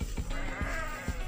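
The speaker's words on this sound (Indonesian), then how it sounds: "Ada suara kambing ya." Goat bleating on a farm beside a citrus orchard, a single wavering nasal call that carries on briefly over a low continuous background.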